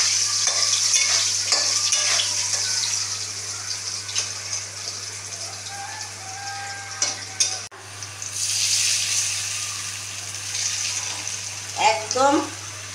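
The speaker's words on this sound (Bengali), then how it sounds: "আলুটা ভাজা হচ্ছে, এর মধ্যে মশলাটা দিয়ে দেবো" Potatoes frying in a pan for a Bengali barramundi fish curry, a steady close sizzle with scraping stir strokes, occasional clinks and a voice speaking over it.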